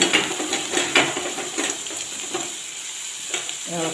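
Shallots and garlic frying with popped mustard seeds in coconut oil, a steady close sizzle broken by the scrape and clink of a spoon stirring the pan.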